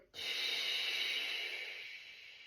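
A deep, long exhale during a breathing exercise for the diaphragm and pelvic floor, a sharp onset settling into one sustained, close breathy rush that slowly fades, with no talking.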